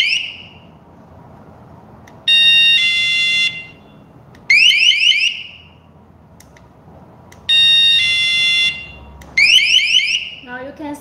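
A door sensor alarm host fires its 120 dB loudspeaker siren in loud repeated bursts, alternating a steady piercing tone with rapid warbling sweeps, separated by brief pauses.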